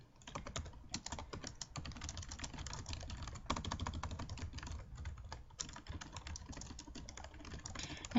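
Steady typing on a computer keyboard, a continuous run of quick, close key clicks with uneven rhythm and no voices.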